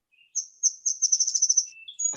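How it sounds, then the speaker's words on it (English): A bird sings from a tree outdoors, a clear close run of high, rapid repeated chirps and whistles lasting about two seconds, ending with a short rustle. "you can hear the birds and see the sun"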